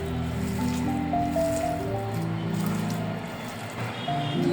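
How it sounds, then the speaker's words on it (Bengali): Minced chicken being hand-mixed with salt for chicken kofta pulao gives a steady wet squishing and squelching close by, continuous throughout with no talking. "হাফ চা চামচের মতো লবণ, খুব ভালো মতো মেখে নেব।"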